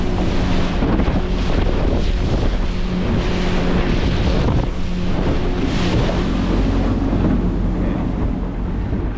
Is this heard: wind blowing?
yes